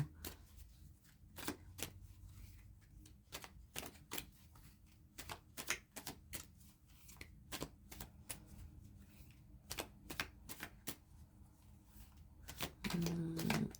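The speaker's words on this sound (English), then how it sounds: "Let's give another shuffle." Rapid riffling of playing cards being shuffled, repeated in sharp bursts close by, with quiet pauses between each shuffle.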